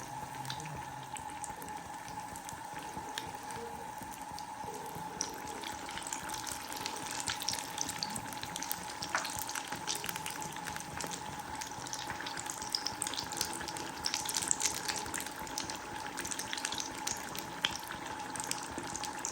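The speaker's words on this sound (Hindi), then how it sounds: "हमने बीच में डाल दी है टिक्कियाँ और ये फ्राई हो रही है।" Potato tikkis coated in egg sizzle in a pan of hot oil, a steady continuous frying hiss with crackle running throughout, close and moderately loud, with no talking.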